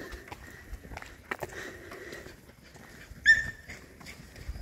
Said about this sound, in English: the dog having a fight